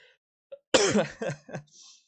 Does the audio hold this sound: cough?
yes